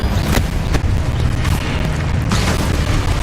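Fiery Confringo spell blasts in Hogwarts Legacy, a steady roar of magical explosions with several sharp bursts cracking through, loud and close, with no talking.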